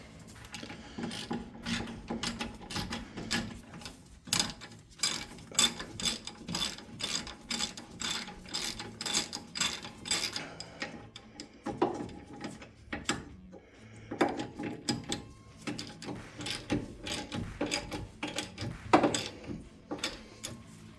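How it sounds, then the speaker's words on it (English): Ratchet clicking in repeated bursts while tightening brake caliper bolts on a 1981 Corvette, close and fairly loud with short pauses between runs of clicks, no talking. "I just need to put the caliper bolts in and then tighten down that rubber brake line all the way."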